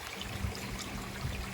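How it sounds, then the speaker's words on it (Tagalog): Fine water misting spraying over lettuce plants in hot weather, a steady soft hiss with light trickling, continuous and close. "Ang tawag dyan mga kaibigan ay misting."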